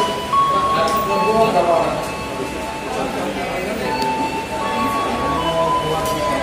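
Light rail LRT train at Sudirman station in Jakarta, a steady rumbling roll with faint high wheel or brake tones throughout, under conversational talk nearby.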